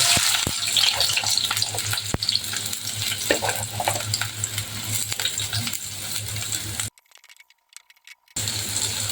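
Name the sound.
chopped onions frying in hot oil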